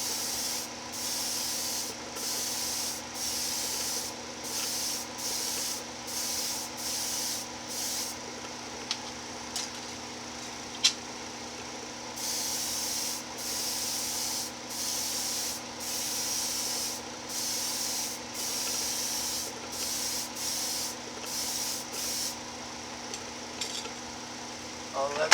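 Aerosol spray paint hissing in repeated short bursts as light tack coats go onto an AMT Dodge Coronet model kit, steady close bursts separated by brief pauses with a low background hum.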